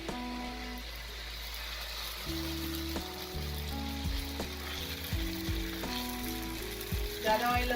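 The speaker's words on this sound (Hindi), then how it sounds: "अब ऑयल को अच्छे से तवे पे गरम कर लिया हमने। अब हम इस पे बैटर डालेंगे" Dosa batter hits a hot oiled tawa and breaks into a loud, steady sizzle with crackling spatter, and a few scraping clinks ring out over the frying.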